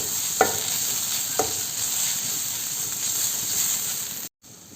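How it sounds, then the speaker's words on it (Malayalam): Steady frying sizzle and hiss of masala in a pan as pepper and garam masala are stirred in for a prawn biriyani, with two brief scraping clicks from the spoon early on; continuous and fairly close, no voices. "ഗരം മസാല അതുപോലെ തന്നെ കുരുമുളക് ഇത് രണ്ടും നമുക്കിതിലേക്ക് ചേർത്ത് കൊടുക്കാം എന്നിട്ട് നന്നായിട്ടൊന്ന് ഇളക്കി കൊടുക്കാം"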